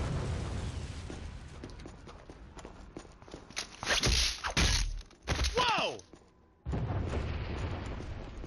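A cooked grenade goes off in the shooter Killzone HD: a few loud booms and blasts with debris after footsteps, then a brief silence before the background noise returns.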